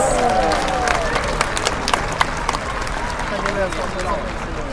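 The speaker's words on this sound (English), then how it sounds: "Let's give Orchid a big round of applause." A stadium audience applauds after an orca training session at the SeaWorld San Diego Shamu show, a broad wash of clapping and crowd noise with occasional louder claps, while an announcer's voice carries over it.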